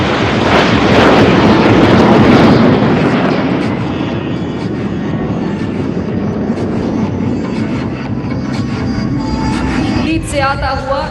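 A fixed-wing aircraft roars low over Somnath temple during a celebration, a loud, continuous engine rumble and rush that fills the whole stretch, with a faint voice near the end.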